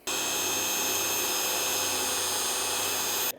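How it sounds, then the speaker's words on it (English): A power drill whines steadily at high speed for a few seconds, cutting a 3-inch hole in a vanity, then stops abruptly. "We're going to drill a 3-inch hole"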